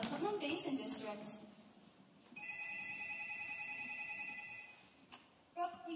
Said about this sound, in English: Brooke, will you tell Leaf he has a phone call?